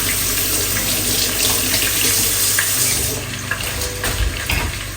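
Onions are washed under a running kitchen tap, a loud, steady rush of water splashing into a sink with faint clinks and shifting splashes as the water hits the onions, close up.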